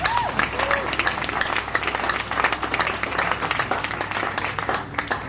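Scattered audience clapping at a forex trading session in Lagos, a dense patter of hands that stays fairly loud, with a brief voice near the start.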